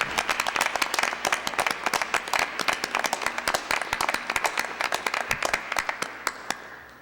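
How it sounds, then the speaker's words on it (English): An audience at a school board of education meeting applauds staff and colleagues, with dense, even clapping from many hands that holds steady and then thins out toward the end. "I'd like everyone to give them a round of applause"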